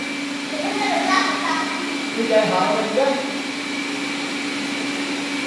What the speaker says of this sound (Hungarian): Három porszívó, egy szoba.